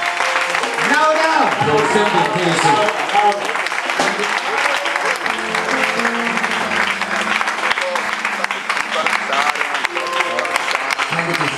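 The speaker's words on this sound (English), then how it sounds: "Give a clap of hand to the Lord Almighty." A church congregation in Ghana claps hands continuously and loudly throughout, with shouting and voices mixed in over the steady clapping.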